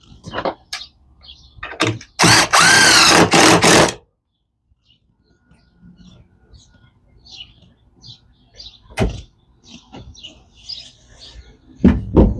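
A power drill fitted with a countersink bit bores into old, dried-out shed wood in one loud, close burst of about two seconds, followed by quiet handling noises.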